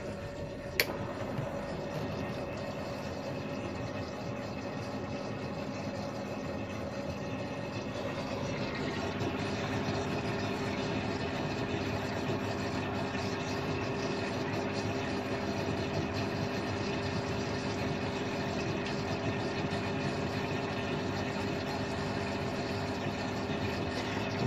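Aqualife Skim 400 aquarium protein skimmer running and bubbling, a steady pump hum with constant fizzing bubbles that grows slightly fuller partway through, close and unbroken, with no one speaking.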